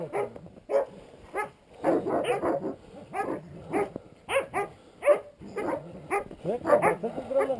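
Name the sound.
dog barking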